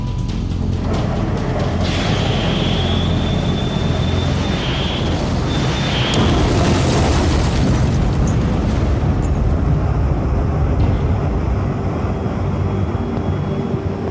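A missile strike detonates in the air above HMS Coventry, a Royal Navy Sea Dart destroyer, with a sustained loud roaring rumble and broadband blast wash lasting many seconds, layered with high whining tones, close and overpowering with no voices.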